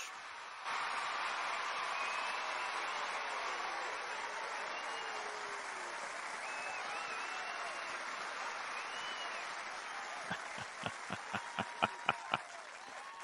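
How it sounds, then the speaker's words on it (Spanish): Applause on a Spanish-language baseball talk show, a steady wash of clapping that runs throughout and ends in a few loud, separate claps. "Que venga el aplauso para el mejor de todos."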